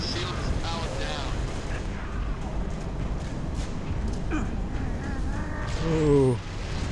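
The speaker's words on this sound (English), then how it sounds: "Oh, both of us threw grenades." Grenade blasts in the Halo Reach video game: dense rumbling explosions and battle noise roll through the scene, with a louder burst near the end, alongside game voices.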